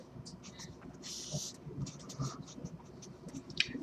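Marker or chalk scratches in short strokes on a board during a math lecture on factoring, faint and intermittent, with a soft voice murmuring underneath.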